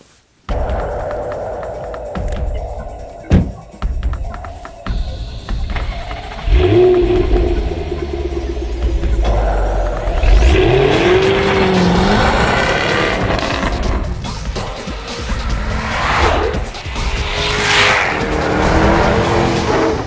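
A Jaguar F-Type with its 5-litre V8 accelerating hard, a deep rising engine roar with gear-change breaks and some tyre squeal, loud and close with no talk.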